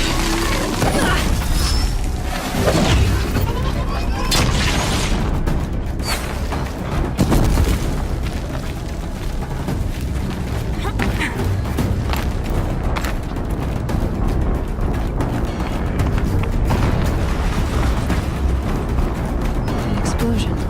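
Explosions during Horizon Zero Dawn combat against machines and cultists, heavy booms and shattering bursts over continuous loud battle noise, with voices speaking at times.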